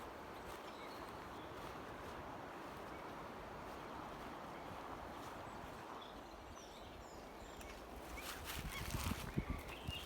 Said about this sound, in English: there are lots of birds singing in here